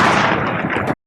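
A single sharp gunshot crack for a Civil War battle scene, loud and close, with a broad blast that holds for nearly a second and then cuts off abruptly.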